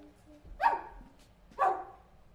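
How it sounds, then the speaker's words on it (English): A small dog barks twice, evenly spaced about a second apart, fairly close and clear against a quiet background. "I know that bark."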